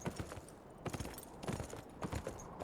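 Horse hooves clip-clop in a steady walking rhythm in the video game Beyond Two Souls, close and moderately loud, with no talking over them.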